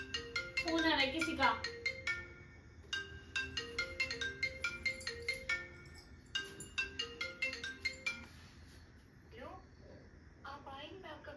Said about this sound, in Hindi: फोन आ रहा है किसी